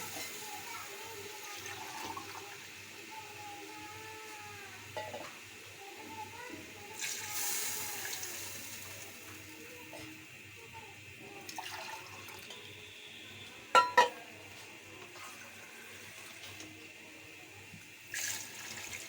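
Chicken stock and water are poured into rice for Lahori chicken pulao, a soft, steady splashing and running of liquid that swells and fades, while someone talks over it.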